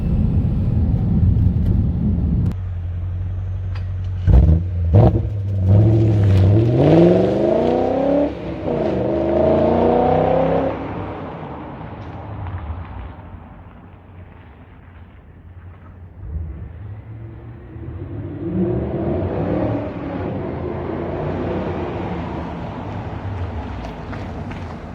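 A 2003 BMW M5 engine with a muffler delete revs close by, giving rising and falling throaty sweeps and a rough idle between pulls, which fade to a low rumble before building again.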